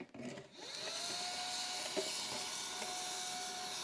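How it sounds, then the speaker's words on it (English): A vacuum cleaner starts up and runs with a steady whining roar, close by and continuous, sucking up spilled cat litter under a Litter-Robot 4. "we're gonna vacuum this extra litter that fell down under here"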